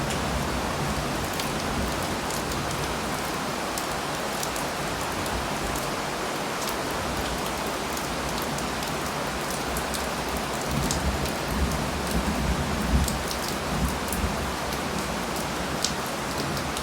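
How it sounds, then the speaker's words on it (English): Steady rain shower falling on lush greenery in rural Jamaica, an even, moderately quiet hiss of drops with scattered close patters, continuous throughout with no voices. "We're getting a welcome shower."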